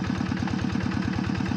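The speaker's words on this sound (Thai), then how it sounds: "ตอนนี้ก็สตาร์ทเครื่องเริ่มเร่งเครื่อง" A Yanmar 85 farm tractor, some 17 to 18 years old, runs with a steady pulsing diesel chug close by, its engine note loud and even throughout.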